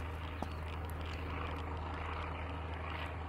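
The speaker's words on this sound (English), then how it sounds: "Is that the cargo ship? Cargo plane?" A cargo plane drones overhead in the SurrounDead video game, a steady, faint propeller hum that holds evenly throughout without talk.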